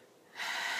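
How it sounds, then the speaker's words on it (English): One deep breath drawn in through the nose during an anxiety tapping exercise, close and clear, rising sharply and then holding as a steady airy rush, with no talk. "And you're going to take a deep breath."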